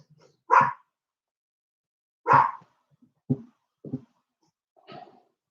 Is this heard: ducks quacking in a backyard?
no